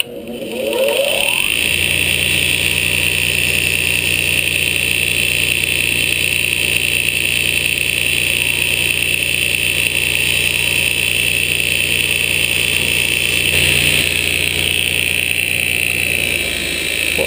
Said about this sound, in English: we're back in welding here with our power sander. We're going to try and shorten this up a little bit.